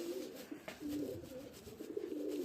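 Pigeons coo softly and repeatedly, low throaty calls overlapping steadily against a quiet background.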